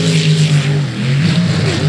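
A racing jet boat engine roars loudly and close on a slough course, a steady droning whine with slight pitch shifts as the boat bounces through corners.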